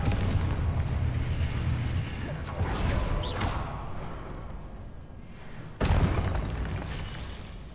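A Confringo fire spell detonates in the Hogwarts Legacy video game, a loud booming blast near the start with a rumbling tail, followed by another sharp explosion near the end amid continuous low game rumble.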